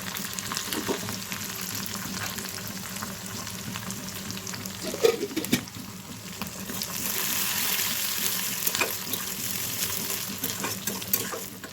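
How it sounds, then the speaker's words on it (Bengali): Dried red chillies, chopped onion and crushed garlic fry in hot oil in a pan, a dense steady sizzle with occasional stirring scrapes and a brief clatter midway, continuous and close throughout. "এখন দিয়ে দেবো এই শুকনো লঙ্কা আর এই পেঁয়াজ কুচি, আর দিলাম এই রসুনগুলি থেতো করে দিয়ে দিয়েছি।"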